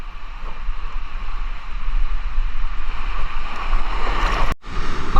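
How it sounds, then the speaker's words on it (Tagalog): Big sea waves rush and splash against a moving fishing boat under a steady engine drone and wind buffeting, loud and close, with a brief dropout near the end. "laki ng alon"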